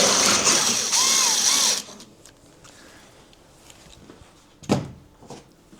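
Drilling into steel with a 10.2 mm bit during an Isuzu D-Max truck camper build, a loud steady grinding whine for about two seconds that then stops, followed by quieter workshop clatter and one brief knock.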